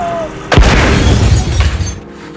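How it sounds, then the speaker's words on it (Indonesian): A car blowing up in a film scene: a sudden loud boom bursts in, followed by about a second and a half of rumbling, crackling debris noise that fades out. "tiba-tiba mobil JB meledak dan menewaskannya."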